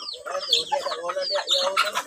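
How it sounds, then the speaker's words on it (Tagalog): Native Bisaya chickens cluck and chatter close by in a short, busy burst of overlapping calls, with no one speaking. "Mga bisaya nga manok."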